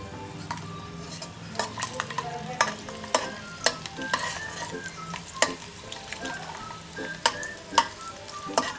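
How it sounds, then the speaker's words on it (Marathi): Slit green chillies and grated coconut stir-fry in hot oil for a rustic chicken kharda, with a steady close sizzle broken by frequent sharp clicks and scrapes of a spatula against the pan, and no voices. "मिरच्या पण व्यवस्थित परतून घेणार आहे मी."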